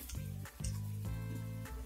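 Masala sizzles and spits in hot oil in a pan while a tadka is prepared for sarson ka saag, a steady close crackle broken by a couple of brief stirring or clattering bumps.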